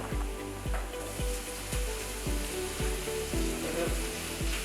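Chopped tomato and spice powders sauté in a hot pan, a dense crackling sizzle broken by regular rhythmic scraping strokes of a spoon, close and alone.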